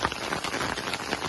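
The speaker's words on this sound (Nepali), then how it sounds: "असिना झरेछ" Hailstones falling heavily near a mountain cattle shed, a dense, continuous pattering and rattling on the surfaces close by, with no voices.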